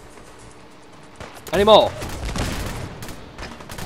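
Bursts of gunfire in the Fallout 4 video game, rapid shots crackling from around the midpoint onward, with a voice speaking over them briefly.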